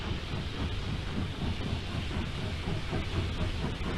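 Steam locomotive running along the railway line at speed, a steady dense rumble with hiss and faint rhythmic rail clatter, continuous and fairly close with no talking.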